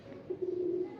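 Golden Rampuri pigeons coo in a single drawn-out, steady call that swells and holds for most of a second, close by and alone with no talk.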